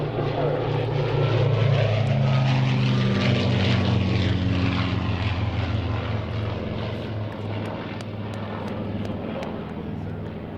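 Battle of Britain Memorial Flight propeller aircraft, a Lancaster and Spitfire, flying past at the Waddington airshow, a loud, steady piston-engine drone with a shifting pitch that fades slightly toward the end.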